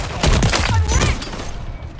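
Sniper rifle fire in the shooter game Modern Warfare 3 cracks in loud, dense bursts over heavy in-game battle noise, a deep boom under sharp reports fading toward the end.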